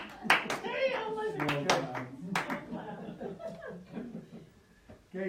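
Applause from parents at a school parent night, with scattered claps under chuckles and chatter that tail off into quieter murmuring.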